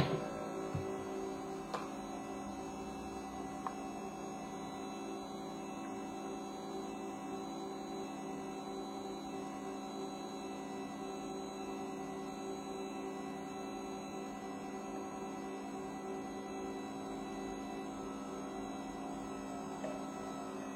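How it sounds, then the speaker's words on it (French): A Pacemaker pasta machine mixes sourdough fresh pasta dough, giving off a quiet, steady motor hum that runs unbroken throughout with a few faint ticks. "Donc là, on va laisser la machine mélanger."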